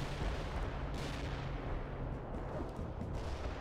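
Artillery fire in the video game World in Conflict: a continuous, dense battlefield roar with a few muffled booms rising out of it, steady and fairly distant.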